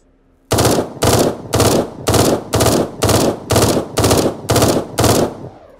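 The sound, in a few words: gunfire from the Eden Star video game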